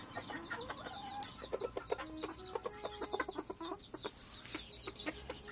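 A breeding pair of Ko Shamo chickens clucks in quick, uneven bursts, close and moderately loud, with short calls overlapping throughout.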